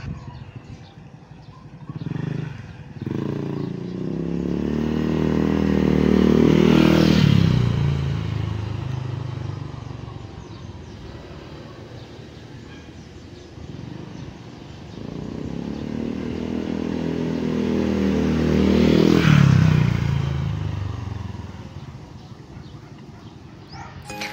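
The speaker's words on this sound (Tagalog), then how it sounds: "ipaparinig ko sa inyo kung gaano kalakas yung sound ng pipe niya pag mapapadaan sa harapan nyo" A Honda Click 125i scooter fitted with an Exos X6 exhaust pipe passes by twice, each time rising from a distant drone to a loud close rasp and fading away, with no talking.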